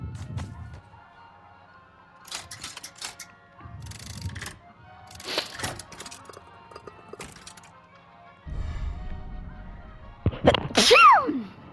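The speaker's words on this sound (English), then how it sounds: "Sorry about that. Need to sneeze." A person sneezes several times while playing Resident Evil 4, giving short bursts separated by pauses and ending in a louder, higher final sneeze, close to the microphone with no other speech.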